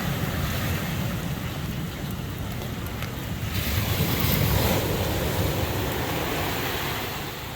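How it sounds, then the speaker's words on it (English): Ocean waves break and wash continuously onto Playa Los Muertos beach, a broad steady roar with a surge midway and some wind noise. "And the waves are coming in pretty good."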